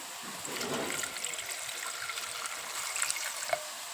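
Steady running water splashes and trickles into a bowl, a continuous close stream with slight variation throughout.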